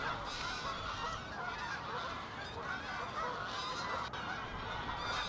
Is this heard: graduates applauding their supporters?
no